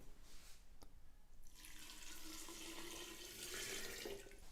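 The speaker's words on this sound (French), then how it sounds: "Et voilà, nous pouvons dès à présent ajouter notre eau." One litre of water is poured into a batch of tepache, a steady rushing splash that swells after a quiet start and continues close by to the end, with no voices.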